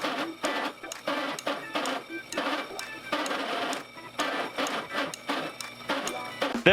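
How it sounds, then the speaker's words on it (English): A 3-inch hole saw cuts a circle out of wood, giving a rapid rhythmic chattering grind in repeated short bursts, close and fairly loud. "Our next step is to take a hole saw. This is a 3-inch saw, and we're going to trim a circle right out of the middle of these."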